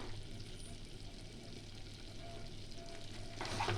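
Butter going into a pan of simmering Bengali-style butter chicken, with a steady low frying sizzle and stirring throughout that swells louder near the end.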